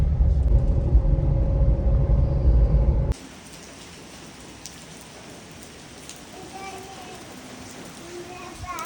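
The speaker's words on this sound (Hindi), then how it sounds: "बारिश आके रुकने का नाम नहीं ले रही" Loud rumbling rain, then a sudden cut to steady rain hiss on surfaces with faint distant sounds beneath, no voices.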